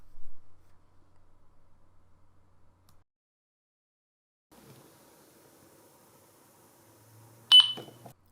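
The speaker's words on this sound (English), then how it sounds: "So there we have a beep" A single short electronic beep rings out sharply near the end, after a faint low hum and some quiet mechanical noise, as an eject pin is held in a device.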